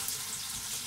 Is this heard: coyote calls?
no